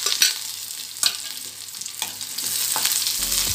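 Curry leaves, a few small shallots and popped mustard seeds crackle in hot oil for a Kerala kumbalanga upperi, a steady sizzle broken by sharp spoon scrapes and knocks against the pan, close up with no voices.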